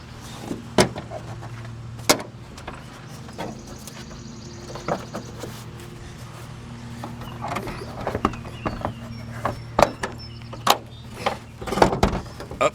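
An aluminum hood being lifted off a Volvo S60R, with scattered metallic clunks, knocks and light taps spread irregularly over a steady low hum, sharper hits coming closer together toward the end.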